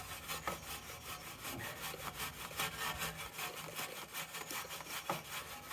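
A brush scrubbing a VW Golf R car wheel, rapid rhythmic back-and-forth rasping strokes, close and steady throughout.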